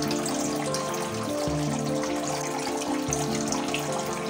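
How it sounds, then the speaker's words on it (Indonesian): Water splashes and trickles continuously onto freshwater lobsters being moved into a new tank, a steady close pouring and spattering with no talk. "Sebelum lobster diletakkan di media tempat yang baru, sebaiknya dicipratin dulu seperti ini."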